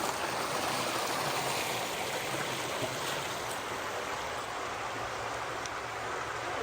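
Stream water rushes steadily beside a rail trail along Pine Creek, a close, continuous broadband gurgle and splash that holds an even loudness throughout with no voices.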